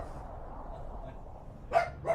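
A dog in a game world (The Witcher 2) barking at something in a wheelie bin, two short loud barks near the end over a steady low background rumble.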